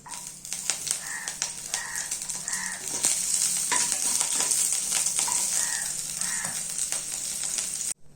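Capsicum and chopped green chillies fry in a pan with a dense, continuous sizzle that grows steadier midway, broken by periodic stirring scrapes and soft clicks, close and without speech.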